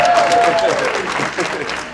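Crowd applause and cheering greeting a performer at an anti-bullying school assembly, loud, dense clapping filling the space throughout, with voices mixed into the din.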